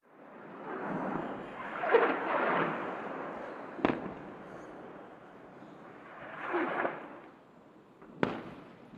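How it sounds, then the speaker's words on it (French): Rocket fire from Gaza toward Israel heard at a distance: broad rumbling roars that swell and fade, with two sharp cracks among them. No one speaks. "je vous suggère de regarder les tirs de roquettes du groupe Hamas vers l'Israël"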